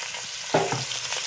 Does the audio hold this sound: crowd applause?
no